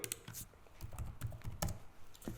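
Quiet, close keystrokes on a computer keyboard enter an amount, a short irregular run of soft taps.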